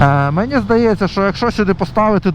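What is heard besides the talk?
None of the usual background noises is heard.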